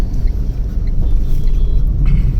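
A Tata Tiago CNG hatchback accelerates in second gear on a rough road, a loud, steady low engine rumble heard from inside the cabin, with no talking.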